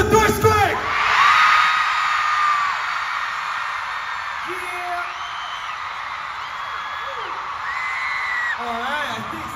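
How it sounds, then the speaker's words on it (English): A live concert crowd of fans screams together on cue at a Stray Kids fan event in Sydney, a dense sustained roar of high-pitched shrieks and whoops lasting several seconds, with scattered individual yells poking through as it fades slightly. "So everyone together. 1, 2, 3, scream!"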